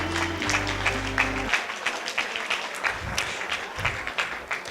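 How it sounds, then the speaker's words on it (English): Wedding reception guests applaud after a father-daughter dance. A brief burst of low music opens, then steady, dense clapping from a crowd fills the room at moderate volume to the end. "How about a big round of applause for Robbie being able to dance with his daughter on her special day?"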